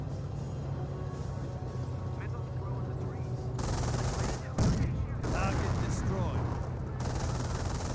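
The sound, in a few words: artillery barrage in video game Company of Heroes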